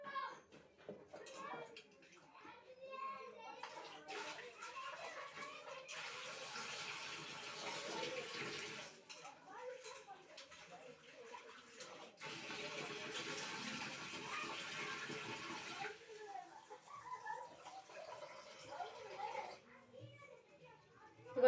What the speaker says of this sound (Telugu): శుభ్రం కడుగుతా నేనైతే నాలుగైదు సార్లు కడిగేస్తాను ఇది